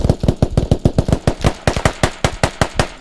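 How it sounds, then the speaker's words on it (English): Rapid, evenly spaced gunshots crack out in a steady burst of about twenty reports over three seconds, loud and close, from a sniper in a first-person squad shooter game during a rooftop firefight, with no talk. "Those shots again. Sniper."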